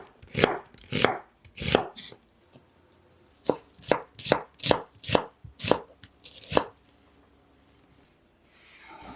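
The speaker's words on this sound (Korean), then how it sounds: "가늘게 채 썰어 주세요." A knife thinly slices an onion on a cutting board in crisp, distinct chops, first a few spaced strokes, then a quicker run of about eight cuts, close and clear.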